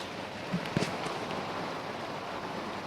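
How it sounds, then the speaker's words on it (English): Heavy tropical-storm rain pours steadily on a boat in Isla Mujeres, Mexico, in a dense, constant hiss, with a couple of faint knocks early on. "it just started pouring rain"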